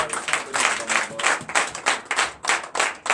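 A church congregation claps in rhythmic acclamation to God during Sunday worship, a quick, regular beat of many hands, fairly close and without voices.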